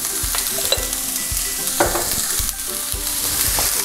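Sliced onions with salt fry for a prawn roast, a continuous close sizzle with regular rhythmic stirring scrapes of a spoon against the pan, no voices.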